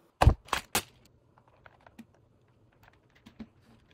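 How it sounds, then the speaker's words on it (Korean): Keys on a Chinese-made mechanical keyboard clack up close, starting with three loud, quick strikes, then trailing into sparse, softer taps scattered across the rest of the stretch. "그냥 실시간으로 타이핑되는 느낌이죠"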